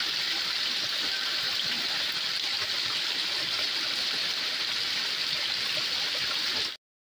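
A small drain in the rainy season runs full, its water pouring like a miniature waterfall in a steady, close, even rush that holds unbroken for about seven seconds before stopping abruptly.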